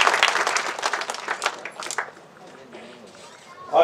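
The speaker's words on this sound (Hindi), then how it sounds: "जोरदार तालियां SN सिंह सर के लिए।" Loud applause from a stage event audience, dense clapping at first that fades over a couple of seconds, with a voice cutting in near the end.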